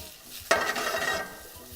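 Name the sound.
garlic sizzling in a hot pan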